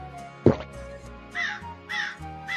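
A crow caws three times at an even pace, each call clear and fairly close, with a soft thump before the first and music running quietly beneath.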